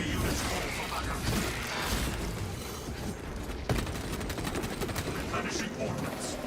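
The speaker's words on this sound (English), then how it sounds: "Let the servo gun do its job." A servo gun firing in a sci-fi video game, a continuous rattling barrage of rapid shots with mechanical clatter and a sharp crack partway through, under a layer of game voice.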